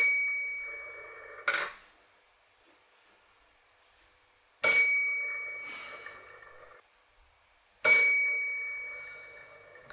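Bell on a powered-up Express Lifts floor position panel, three separate sharp dings with ringing decays, spaced a few seconds apart with silence between them.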